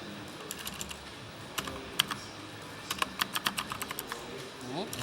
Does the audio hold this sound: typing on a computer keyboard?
yes